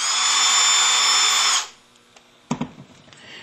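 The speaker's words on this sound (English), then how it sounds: "clamp the top and bottom templates together and drill holes for the alignment pins" A power drill bores alignment-pin holes through clamped top and bottom foam-cutter templates. It makes a steady high whine for about a second and a half, then stops, followed by a few light knocks and handling clatter.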